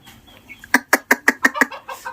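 A chicken clucks loudly in a quick, even series of about six sharp clucks, close by, with soft rustling before and after.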